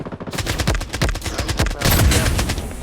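Minigun in a video game firing a dense rapid stream of loud close shots that swells toward the end, with game effects mixed in.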